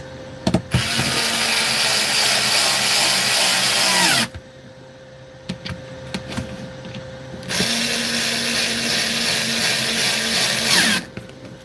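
Power driver spinning screws into a battery pack in two loud, sustained bursts of whirring, with quiet gaps, clicks and handling noises between them.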